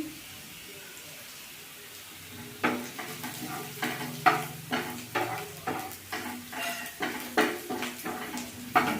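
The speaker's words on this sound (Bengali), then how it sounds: "পেঁয়াজটা মোটামুটি ভাজা হয়ে গেছে এবার আদা কুচি রসুন কুচি" Onion, ginger and garlic fry in a pan with a low steady sizzle. A utensil stirs and scrapes the pan in a repeated rhythm of close, distinct strokes, with no talking.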